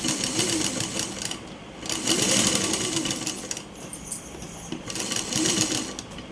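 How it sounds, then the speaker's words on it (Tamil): Sewing machine stitching a blouse sleeve with stone embellishments, sewn slowly and carefully, in close, moderate bursts of rapid mechanical chatter separated by short pauses. "கொஞ்சம் ஜாக்கிரதையாக தைக்கணும்."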